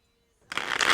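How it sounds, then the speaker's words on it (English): Riffling of a Rider-Waite tarot deck during a reading, a dense papery flutter that starts abruptly halfway through and stays close and steady to the end. "I've already pre-shuffled, so I'm going to shuffle again."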